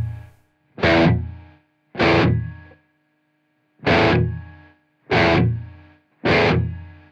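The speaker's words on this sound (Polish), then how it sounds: "Dam dużo high gainu, czyli dużo przesteru." A high-gain distorted electric guitar through a Taurus SH7 Apogee floor amplifier plays five separate sustained chords, each struck hard and ringing out before decaying, with clean pauses between them.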